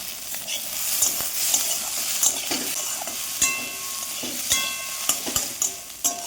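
Potatoes and onion stalks fry in a pan, a continuous close sizzle punctuated by repeated scraping stirs of a spatula.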